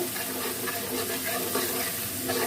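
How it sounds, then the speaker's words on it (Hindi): Whole spices with garlic and onion fry in hot oil in a pan for aloo chicken, giving a dense, continuous sizzle with faint stirring scrapes and no talk. "खड़े मसालों को भी फ्राई कर लेते हैं 1 मिनट के लिए।"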